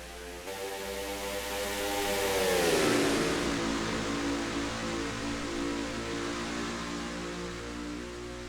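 Stock race cars at Rockingham, UK roar up together at the green-flag start, a dense engine wash that swells to a peak with a rising pitch and then holds as a broad sustained drone.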